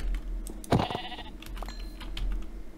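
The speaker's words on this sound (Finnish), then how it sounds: "Ui lampaita." A single sheep bleat from Minecraft, a short wavering call standing out over quiet game background ambience, with faint clicking nearby.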